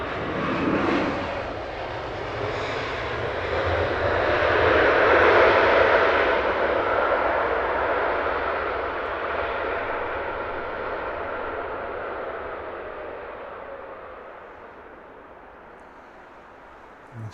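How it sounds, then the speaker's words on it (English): An airliner landing at Heathrow roars past with loud thrust reverser noise, a broad rushing engine roar that swells and then slowly fades over many seconds. "Nice noisy reverser action."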